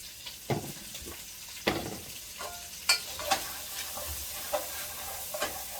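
Onion, celery and green pepper sizzling in a pan for red beans and rice, with a continuous fry hiss broken by scattered spoon scrapes and clanks as the vegetables are stirred, close up.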